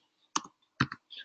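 Typing on a computer keyboard gives a few crisp key clicks in two quick clusters, close and distinct with short silences between them.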